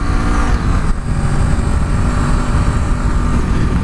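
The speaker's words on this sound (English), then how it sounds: "Let's go full throttle now." Honda Rebel 500 motorcycle, a 48-horsepower A2-class bike, running at full throttle on the road, a loud steady engine roar with dense wind noise throughout.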